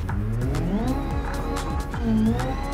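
A modded, futuristic car with a large rear wing, in the BeamNG racing game, revs hard on a track, its engine pitch climbing and falling through gear changes with bursts of tire squeal, loud and continuous.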